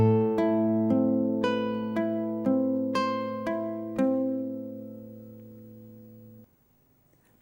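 A plucked classical guitar melody from 'Romance', about seven rest-stroke notes picked one after another at a steady pace with a low bass note ringing underneath, then the sound fades to quiet.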